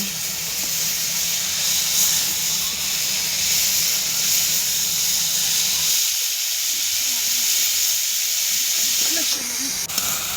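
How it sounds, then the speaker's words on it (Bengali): Bitter gourd and potato pieces go into a pan of hot oil with five-spice seasoning, giving a steady loud hiss that holds throughout with a slight change partway, no talk over it. "এবার দিয়ে দেবো উচ্ছে আলুগুলো।"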